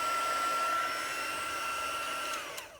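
A heat embossing tool blows hot air over a Christmas card, a steady close whooshing drone like a small hair dryer that holds evenly, then fades and cuts off near the end.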